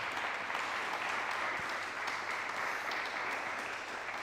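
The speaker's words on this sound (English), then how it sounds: "Can we give him a little round of applause?" An audience at a talk applauding, a dense, steady wash of many hands clapping that holds evenly at moderate loudness throughout, with no talk over it.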